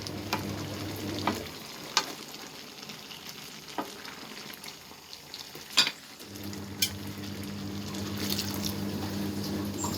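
Black chickpea curry simmers in a pan with water added, giving a bubbling, sizzling cooking sound with scattered clinks and stirring, close and moderately loud, without talking.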